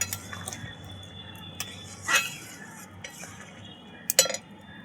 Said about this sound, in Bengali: ডালটা হয়ে গেছে, এবার আমি ঢেলে নেব।